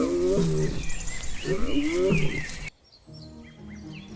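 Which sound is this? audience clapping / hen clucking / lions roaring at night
lions roaring at night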